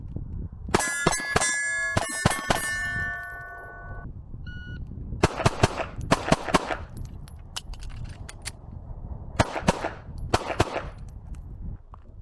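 Sharp pistol shots from a Sig Luxe .380 fitted with a compensator, fired in quick clusters of drill strings with brief pauses between bursts, loud and close with ringing metallic tails.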